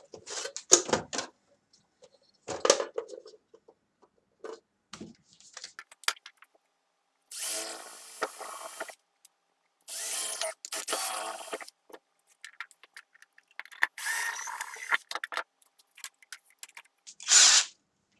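A small rotary tool mills a plastic nub off a Bruder MAN TGS model truck, sounding in several short high whining bursts of a few seconds each, with quiet pauses and a few handling clicks between them.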